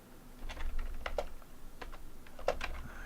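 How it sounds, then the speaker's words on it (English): Keys on a computer keyboard clatter in quick, uneven bursts of typing, close and clear, with brief pauses between clusters and no speech. "Are you typing in Call of Duty 4?"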